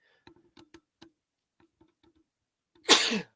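A few faint ticks and taps, then a single loud, sharp sneeze close by at the end.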